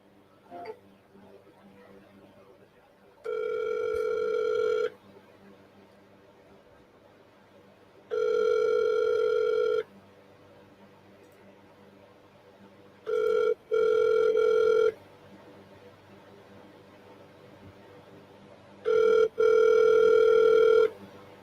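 Outgoing phone call ringing unanswered, four long ringback tones spaced by several seconds of quiet line hiss, each tone steady and moderately loud, the third briefly interrupted.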